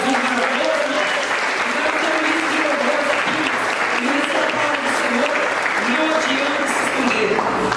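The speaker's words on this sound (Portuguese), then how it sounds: "Dá uma salva de palmas para esse Jesus." An audience at a church service gives a sustained round of applause, a thick, even roar of clapping that holds steady throughout, with voices calling or singing over it.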